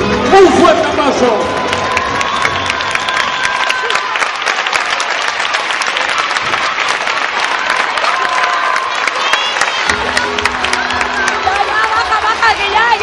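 Loud crowd applause at the 2011 Spanish gymnastics championship in Seville for a level 3 champion, sustained clapping mixed with cheering and crowd chatter, easing briefly near the end.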